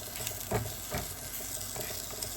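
Chili softening in hot oil in a pan over moderate heat for a Chinese stir-fry with eggs, a steady close sizzle with a few brief stirring scrapes, no talking.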